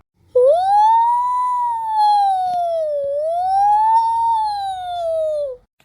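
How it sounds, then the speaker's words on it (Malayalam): A police car siren wails loudly and close in one long continuous rising and falling tone, alone with no speech, cutting off abruptly at the end. "അത് ആംബുലൻസ് അല്ല, അത് പോലീസ് വണ്ടി വരുന്നേ"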